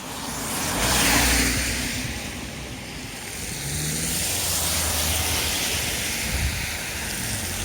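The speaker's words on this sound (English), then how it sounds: "the truck and the car got through. It was just squeezed in." A truck and a car squeeze slowly through a tight passage in Silloth, Cumbria, England, with a steady engine rumble mixed with wind-like roar that swells and fades across several seconds.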